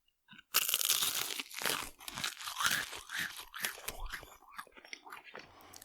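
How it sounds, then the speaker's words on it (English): A crunchy snack is bitten and crunched right at the microphone, producing loud, close crackling bites followed by a run of irregular chewing crunches that fade gradually. "I'm going to open lip and we're just going to crunch this thing"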